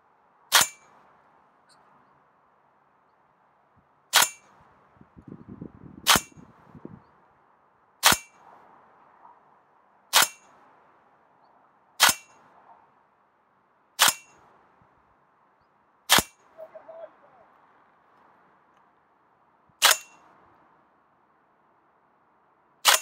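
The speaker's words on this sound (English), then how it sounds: "and then fire 10 shots when you're ready" Ten sharp shots from a GBLS DAS GDR15 airsoft rifle crack at steady intervals of about two seconds, each followed by a faint distant strike on a torso target 40 meters away, with a brief rustle midway.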